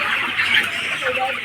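Chickens at a poultry farm cluck and chatter together in a dense, close flock for a brief moment, and a voice is heard faintly among them.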